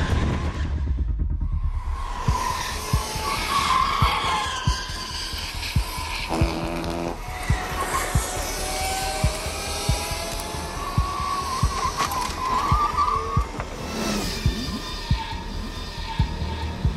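Go-karts race bumper to bumper around a K1 Speed track at a world championship event, their engines buzzing steadily with passing whines, tire squeal and skidding through the corners, loud and continuous with no talk.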